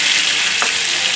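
Marinated chicken, coated in onion, ginger and garlic paste, hits hot oil in a pan and sets off a loud, steady, dense sizzle that lasts the whole moment.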